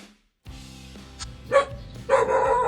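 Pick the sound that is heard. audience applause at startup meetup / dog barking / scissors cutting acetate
dog barking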